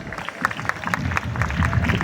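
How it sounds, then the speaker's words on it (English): A school valedictory ceremony audience breaks into a short, dense burst of applause, with many hands clapping at once for a couple of seconds. "Once again, give a big round of applause for yourself."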